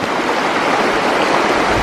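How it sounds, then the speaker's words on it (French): Mountain stream in the Hautes-Alpes, the Orcérette, rushing nearby in a steady, dense broadband wash of flowing water that holds constant and loud throughout, with no voices. "Et là c'est le ruisseau de l'Orcérette."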